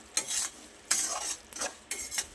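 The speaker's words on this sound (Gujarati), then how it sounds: "હવે સરસ રીતે આને શેકાઈ જવા આવ્યું છે" Mango sheera roasts in a pan as a spoon stirs it in four distinct scraping strokes, each a short rough swish over a faint sizzle.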